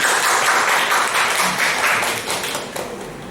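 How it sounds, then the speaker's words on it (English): An audience at a Toastmasters club meeting breaks into steady clapping, a dense patter of many hands that fades slightly toward the end, with no voices over it. "Please a big round of applause to Ajahn Mesan."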